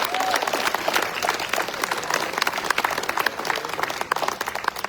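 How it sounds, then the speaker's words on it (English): An audience at a Celebration Sunday gathering applauds the kitchen committee with steady, crowded clapping that runs throughout, moderately loud and even. "Give the kitchen committee a round of applause for all their hard work."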